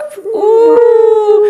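A dog howls in one long, wavering, sustained cry, close and loud, with a short yip-like start and no talking over it.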